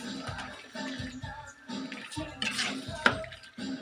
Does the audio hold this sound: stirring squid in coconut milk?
yes